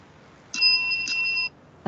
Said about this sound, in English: Can we restart it to test the bell?